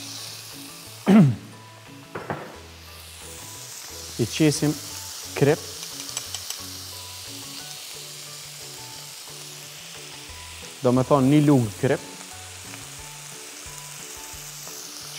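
Minced meat frying in hot extra virgin olive oil in a pan for lasagna bolognese, a steady close sizzle running throughout beneath short bursts of a person talking.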